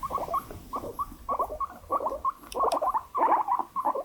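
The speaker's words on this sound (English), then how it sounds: "they might start making a constant and rapid sort of warbling noise" An anxious guinea pig, away from its cage and held on a lap, makes a constant, rapid warbling, a string of quick chattering pulses, close and fairly quiet with no talk over it.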